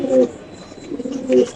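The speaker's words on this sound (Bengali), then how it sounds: "একটু নিচে ছাড়েন এই কবুতরটা" A pigeon at a pigeon farm coos twice in low, throaty bursts, once at the start and again near the end, close to the microphone with faint background noise between.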